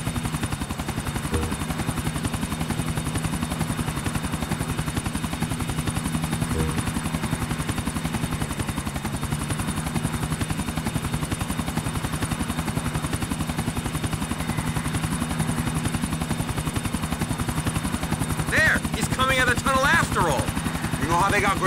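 A helicopter's rotor chops and drones steadily throughout in Grand Theft Auto: The Ballad of Gay Tony, with brief bursts of other activity near the end.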